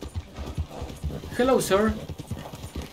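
Horse hooves clip-clop in Red Dead Redemption 2, a steady trotting rhythm of hollow knocks with a brief whinny in the middle, under game character voices.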